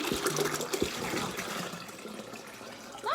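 Tap water pours steadily into a pitcher used for the dog, filling at close range with a continuous splashing rush and a rising gurgle near the end.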